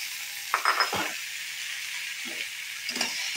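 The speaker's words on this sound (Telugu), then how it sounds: "పచ్చిమిరపకాయలు వేగాయి కదా, ఇప్పుడు మనం టమోటాలు వేసేస్తున్నాము." Tomatoes frying in a little oil with green chillies, a steady close sizzle with a few brief clinks and stirring scrapes from a utensil against the pan.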